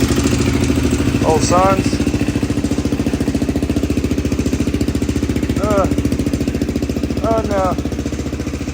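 A Honda 400EX engine swapped into a Polaris RZR 170 runs with a steady, loud, rapid idle throughout. Brief voices break in over it now and then.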